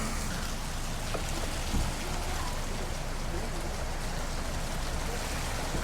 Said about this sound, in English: And it's just starting to rain